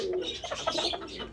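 A pet pigeon coos in a short, soft rolling call, close by with faint chirpy overtones and no talking.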